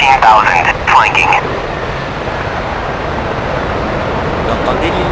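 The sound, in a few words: helicopter in the Su-25 flight simulator game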